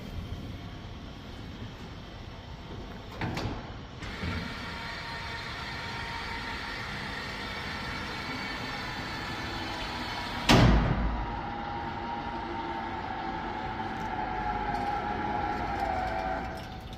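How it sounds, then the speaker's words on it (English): Wheelchair ramp system deploying from a van's sliding door after a button press, a steady mechanical hum running for many seconds with a sharp clunk partway through and a couple of earlier knocks, close by with no talking. "It's going to activate the ramp system."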